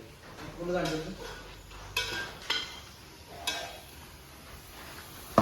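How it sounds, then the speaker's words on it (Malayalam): Onions browning in a pan for a chicken rice dish are stirred with a utensil, giving a few clinks and scrapes over a low sizzle, with a voice talking faintly alongside. "ഈ ഉള്ളി നല്ല ബ്രൗൺ കളറായി വരുന്നത് നമുക്ക് ഇങ്ങനെ ചെറുതായിട്ട് ഇളക്കി കൊടുക്കാം"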